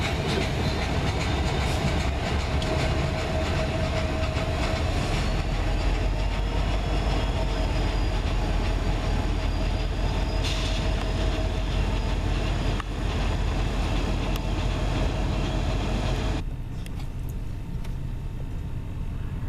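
A CN freight train rumbles past nearby in Ladysmith with steady clattering wheels and broadband roar, continuing loudly for most of the time before abruptly dropping to a quieter hum.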